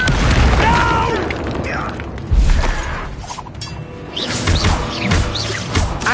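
Confringo fire-blast spell erupting in Hogwarts Legacy combat, a loud booming burst with crackling debris amid chaotic battle noise, close and dense, with a voice shouting over it.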